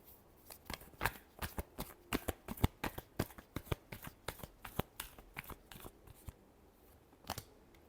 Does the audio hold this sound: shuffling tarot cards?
yes